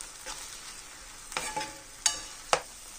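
Sauce of tomato ketchup and chilli sauce frying in a pan for chilli paneer, a soft steady sizzle broken by a few sharp scraping stirs of a spatula, close and clear with no talk.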